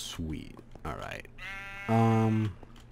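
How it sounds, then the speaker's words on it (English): Sheep in Minecraft bleating, two distinct bleats with the second louder and longer, close by, with brief talk and game sounds around them. "Hey, sheep."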